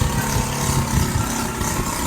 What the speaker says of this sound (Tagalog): papansin yung motor. Ang pangit ng tunog.